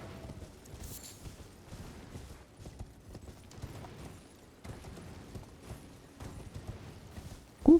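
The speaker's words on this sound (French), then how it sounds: "Oh, le cheval de Skyrim." Horse hooves in the video game Elden Ring, a steady galloping clip-clop heard close and moderately loud over quiet ambience, with no talking.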